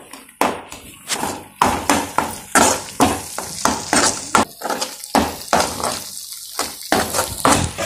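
Meal maker soya chunks with turmeric fry in a pan while a utensil stirs them, producing loud, rhythmic scraping strokes over a continuous close sizzle.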